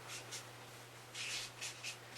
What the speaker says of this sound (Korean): 여기에다가 제가 가위라고 한번 써볼게요